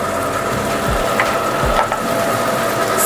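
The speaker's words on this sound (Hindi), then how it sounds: "सारे मसालों को टमाटर के साथ में हम 2 से 3 मिनट के लिए मीडियम फ्लेम पे भून लेंगे" Spices fried with tomato in a pan over a medium flame give a dense, steady sizzle with faint scraping of a spoon, close and continuous.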